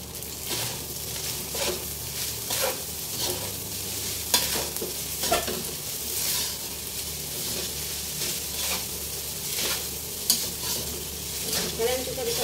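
Pineapple fried rice stir-fried in a pan with chopped spring onions just added, with a steady close sizzle under repeated scraping and stirring strokes of a utensil against the pan.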